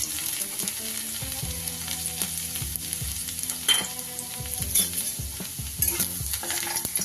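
Minced garlic sizzling in hot oil in a pan, a steady close frying hiss with occasional stirring scrapes and clinks, no voices.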